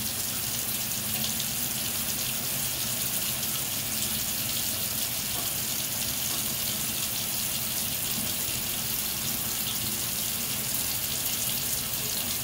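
Water runs steadily from a tap for washing hands, a loud, continuous close-up gush that holds without a break and has no voices over it.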